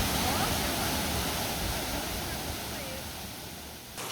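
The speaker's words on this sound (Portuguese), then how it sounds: "a gente chega na Cachoeira dos Remédios" The Cachoeira dos Remédios waterfall roars as a dense, steady rush of water, loud and continuous, fading slightly toward the end.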